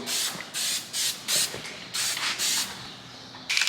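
Short bursts of spray coating hiss onto red car paint, about eight quick puffs in an uneven rhythm, close and moderately loud, with no talking.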